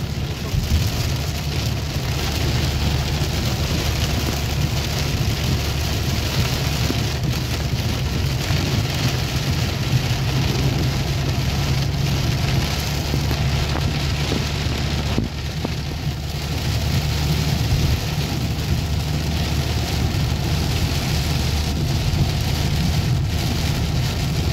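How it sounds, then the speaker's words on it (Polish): Heavy rain pours on a car during a drive from Spytkowice to Osielec via Jordanów, a dense, continuous drumming on the roof heard from inside the car, loud and unbroken throughout. "2-3 razy się błysło i tyle to leje, nie?"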